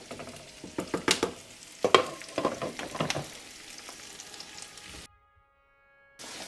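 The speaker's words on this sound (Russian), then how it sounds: "Лаврушка у нас поджаривается и дает очень такой прекрасный аромат сейчас." Fresh bay leaves fry in a pot for a Russian solyanka, crackling and popping in bursts alongside a few stirring scrapes, then a brief near-silence before the sizzle returns; no one speaks.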